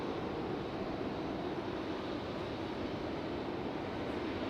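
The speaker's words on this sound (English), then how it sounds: "our next arrival is JetBlue 683 coming in from Boston, Massachusetts on that Embraer E175 or E190AR" Steady, broad roar of a JetBlue Embraer E175 or E190AR airliner arriving at Raleigh Durham International Airport, a continuous loud rumble holding level throughout with no talk.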